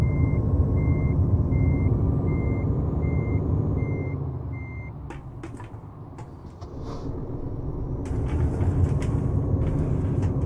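A truck in Euro Truck Simulator 2 on snowy Italian roads sounds evenly spaced reversing beeps over a deep engine rumble, then the beeping stops and the engine note dips and surges again.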